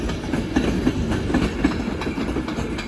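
A train at Crewe station on the West Coast Main Line gives a steady, close rumble with rhythmic clickety-clack of wheels over rail joints, heard alone without talk.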